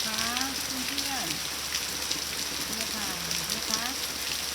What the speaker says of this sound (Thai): ฝนตกแล้วพี่ดีใจเพราะว่ามันจะได้คลายร้อนไปได้